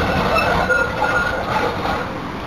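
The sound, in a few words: train at Richmond train station, Melbourne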